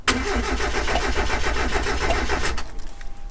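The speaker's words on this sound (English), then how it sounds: "I'm going to crank the car. I will not start it" A Mazda Miata engine with RX8 injectors cranks steadily without firing, a close, rhythmic starter churn lasting about two and a half seconds before cutting off, with no talking.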